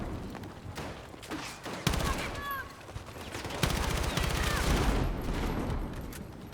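Rapid bursts of M4 rifle fire from the video game Battlefield 6 crackle through a busy multiplayer battle, with sharp onsets and a talking voice underneath.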